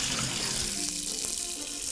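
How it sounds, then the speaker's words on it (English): Tap water runs steadily over potatoes being rinsed in a kitchen sink, a close, constant splashing hiss with no talk. "the water is now running a lot more clear"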